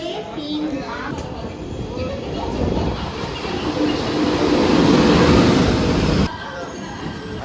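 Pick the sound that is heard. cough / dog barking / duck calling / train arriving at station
train arriving at station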